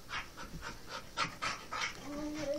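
Airedale terrier dogs panting close by in rapid rhythmic breathy bursts, with a faint whimper near the end.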